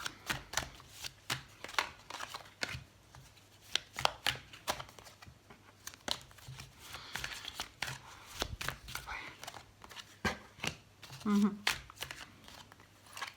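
Tarot cards handled during a reading, shuffled and drawn with soft riffles, slides and papery flicks, close up, with brief light crinkling.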